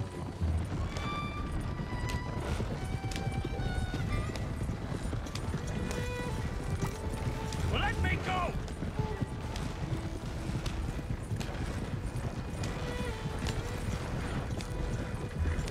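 Horse hooves clip-clop steadily through a Red Dead Redemption 2 game scene, a continuous ride under background noise with a brief whinny-like burst midway and a person talking intermittently.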